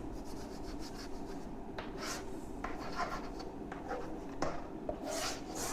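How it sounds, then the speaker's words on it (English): Rubbing and writing on a board produce soft, scratchy strokes and brief taps in an irregular rhythm, heard close and quiet. "I'll just rub it here and write the result in this way."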